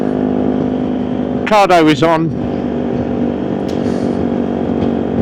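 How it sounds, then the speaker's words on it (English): A constant low motorcycle exhaust drone runs beneath the whole clip while a voice speaks briefly over it, close and clear. "all I can hear is exhaust noise."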